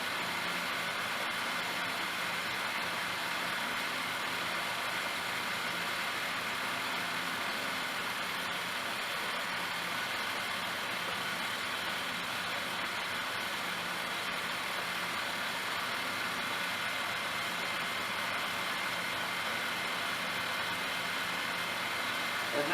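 A milling machine's power feed runs steadily while cutting a brass bar down from a quarter inch, giving a constant broadband mechanical hum and whir with no breaks, fairly loud and close, with no talk.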